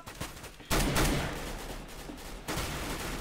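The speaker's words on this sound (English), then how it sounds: "If you could stop shooting me, please." Gunfire from enemy players in the video game CS:GO, a burst of shots that starts abruptly and continues at fairly high level, with a second surge of firing later.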